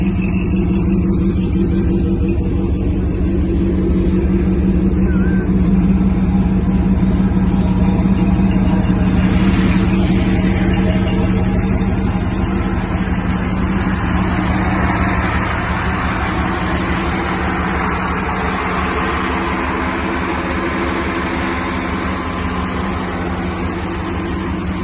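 A 1954 Ford F-100 truck with a bone stock Oldsmobile engine runs steadily, a loud, continuous low rumble with a slight rise around midway, heard close and alone.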